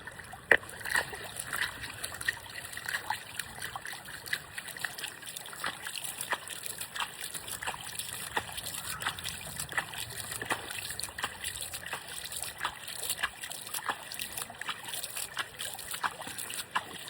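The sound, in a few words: water being poured out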